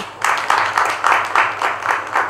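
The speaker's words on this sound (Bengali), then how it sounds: "তাদের সবার জন্য হাততালি" A studio audience claps for both teams after a tied round on a Bangla TV game show, bursts of applause swelling in a regular pulsing rhythm, fairly loud and close, with no talking.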